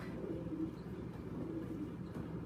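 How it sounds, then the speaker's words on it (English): Pigeons coo softly inside a racing-pigeon loft, with faint low murmuring calls over a steady hum of background noise. "Bird's a little wild in the loft."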